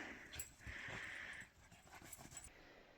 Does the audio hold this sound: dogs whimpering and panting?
yes